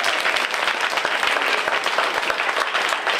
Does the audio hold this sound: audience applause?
yes